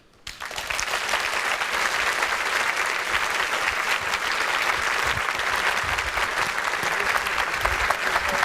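An audience breaks into sustained, loud applause, a dense wash of clapping that holds steady to the end.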